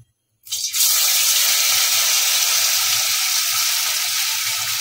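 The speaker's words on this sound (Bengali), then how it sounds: "আমি এবার এগুলো একটা করে চোবাবো, চুমি চুমি ভেজে নেব" Bottle gourd borfi pieces drop into hot refined oil after a moment of silence, and a sudden loud, dense hiss rises and settles into a steady deep-frying sizzle.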